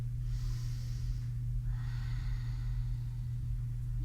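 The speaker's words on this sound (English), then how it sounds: "And then we'll take 3 huge deep breaths here." Deep breaths taken during a post-run stretch: a slow inhale followed by a longer, audible exhale, close but soft, over a steady low background hum.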